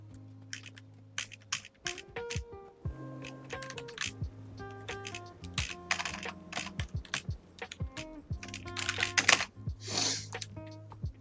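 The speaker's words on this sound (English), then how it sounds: "I'm just typing here" Rapid clicks and clacks of typing on a computer keyboard come in irregular bursts, close and crisp, over faint background tones.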